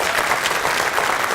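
A Washington High School Hall of Fame banquet audience gives a round of applause, loud, dense and steady clapping filling the room without a break.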